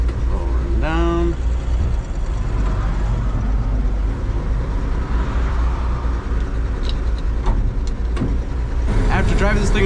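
A 1950 Chevrolet 3600 pickup truck engine while driving: a loud, steady low rumble and road noise throughout, with a brief whine early on and faint talk over the drone.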